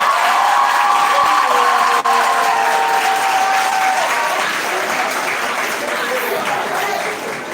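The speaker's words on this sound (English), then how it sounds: "round of applause" Loud round of applause from an audience at an academic-practitioner conference, dense clapping with some cheering and voices, gradually tapering toward the end.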